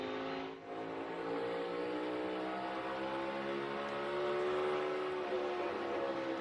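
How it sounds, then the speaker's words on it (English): A NASCAR Cup race car engine at the Toyota Owners 400 eases off the throttle below the rev limiter, its loud, steady harmonic drone sliding slightly downward and holding near and continuous for several seconds with no talk. "you hear him roll out of the gas to stay out of the rev limiter"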